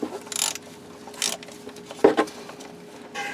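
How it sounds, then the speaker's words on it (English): A wrench loosens bolts by a couple of turns, giving short ratcheting clicks and metallic turning sounds in brief bursts, close and moderately loud. "We're going to take the pointy end bolts and loosen them by a couple turns."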